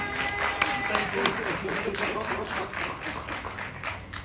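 A town hall audience claps together at a community meeting, a dense patter of many hands that stays fairly even, then thins slightly toward the end, heard from within the room.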